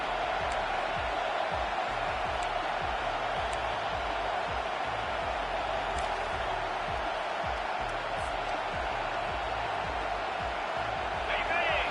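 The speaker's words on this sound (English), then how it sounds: "Decibels rising as the crowd gets behind this defense on 3rd down" A steady, dense roar of a stadium football crowd on a third down holds at a constant level throughout, with a commentator's voice over it.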